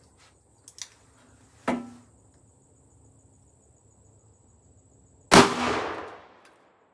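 A Rossi RP63 .357 Magnum revolver with a 3-inch barrel fires a Hornady 125-grain flat point XTP round outdoors: one sharp, loud shot with a short ringing decay, preceded by a few faint clicks and a softer thump, with insects chirping faintly throughout.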